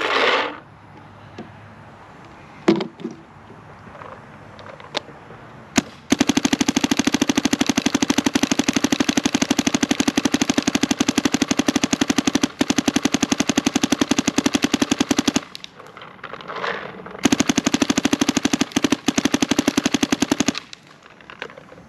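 DSR+ paintball marker in NXL full-auto mode at maximum rate of fire, unloading a pod in two long, dense, rapid bursts of near-identical pops, close and loud, after a few scattered single shots.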